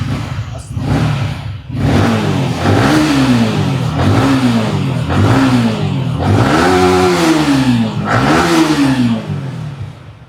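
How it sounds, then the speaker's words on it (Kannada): A red 2022 Yamaha R15 motorcycle with double disc brakes revs repeatedly up close, about five loud throttle blips rising and falling in pitch over a rough idle. "ಒಂದ್ಸಲ ಗಾಡಿ ಸೌಂಡು ತೋರಿಸ್ತೀವಿ"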